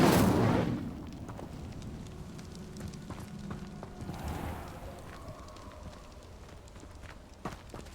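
An Incendio fire spell cast in Hogwarts Legacy opens with a loud, roaring burst that fades within a second, followed by a second, softer whooshing flare midway and lingering crackling magical ambience.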